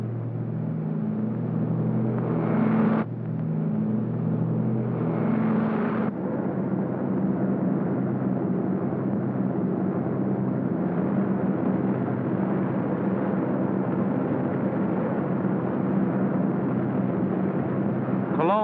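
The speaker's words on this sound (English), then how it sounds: "Hitler's fortress Europe rocked under the terrific pounding of RAF bombers." RAF bombers over wartime Europe make a steady, heavy droning rumble of massed aircraft engines, with dull explosive thuds blended into the din, loud and continuous throughout.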